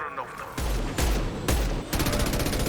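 Gunfire in the video game Mass Effect 2: loud bursts of rapid automatic shots in several quick volleys, close and punchy, with a brief pause between each burst.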